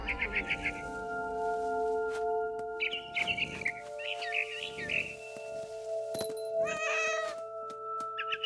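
Cat meowing in the video game What Remains of Edith Finch, several short meows spread across the stretch with bird-like chirps, over a steady game music drone.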